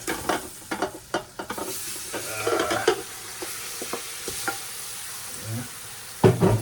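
Turkey neck dropped into a pot of curry sizzles and fries, with scraping stir strokes and clinks early on, a steady hiss through the middle and a louder burst of sizzling near the end; no one talks.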